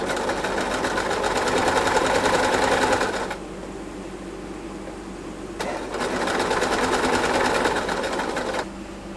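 A sewing machine stitches quilt top pieces for a baby quilt in two long, steady bursts of loud motor hum and rapid needle clatter, separated by a short quieter pause, with no talking.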